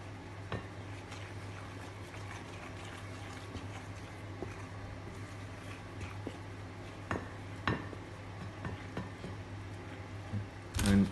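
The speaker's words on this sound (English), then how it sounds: "you shake it all in and you mix it until it's all well incorporated" A spoon stirs baking powder into muffin batter in a bowl, giving soft, scattered scrapes and light clinks against the bowl over a steady low background hum.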